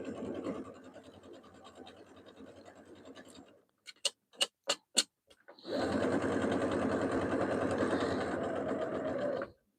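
A sewing machine runs a straight stitch along the folded edge of a pillow sham in two steady, close bursts, separated by a brief pause with a few sharp clicks.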